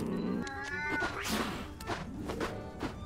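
Cat in the Ratatouille video game giving a few drawn-out, wavering meows and yowls, close and fairly loud against quiet game background.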